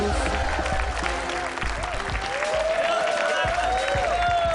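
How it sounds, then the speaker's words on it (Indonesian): An audience applauds the winner Pak Agus after a strength contest on a TV show, sustained clapping with crowd noise under an announcer's voice and some tonal background sound. "Beri tepuk tangannya buat Pak Agus"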